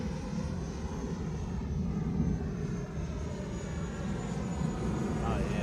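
An FMS Avanti 90mm EDF RC jet flies past with a continuous whooshing ducted-fan roar, steady and fairly distant, while a person briefly speaks over it.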